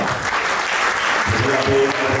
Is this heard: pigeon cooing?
no